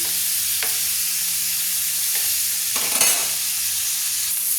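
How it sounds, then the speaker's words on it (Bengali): Shrimp frying in a pan in a home kitchen, a steady hiss of sizzling oil with a few sharp scrapes and stirs of the spatula partway through. "দেখুন, আমি অল্প সময়ের মধ্যে 25 সেকেন্ডের মধ্যে আমি চিংড়ি মাছটাকে ভেজে নিচ্ছি।"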